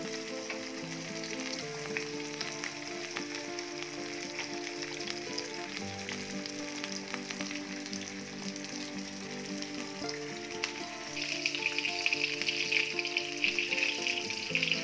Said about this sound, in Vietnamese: Chúng ta chiên cho con cá này hơi vàng